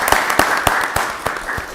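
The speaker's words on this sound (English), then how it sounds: "Let's give all of our employees another round of applause." Round of applause for county employees at a Rockdale County Board of Commissioners voting session, a small group clapping with distinct, separate hand claps in a loose rhythm, fairly close and loud.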